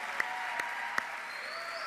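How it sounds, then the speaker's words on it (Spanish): Applause from a church congregation during a sermon: a steady wash of many hands clapping throughout, fairly close, with a few sharper individual claps standing out at intervals and no talking over it. "yo daré un aplauso más grande al Señor ahí"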